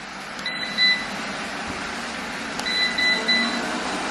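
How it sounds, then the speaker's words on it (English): An Anker eufy 25C Wi-Fi robot vacuum runs at its higher suction speed, giving a steady close whir with a few short electronic beeps over the hum. "Now it's sucking up harder, but you're using more battery."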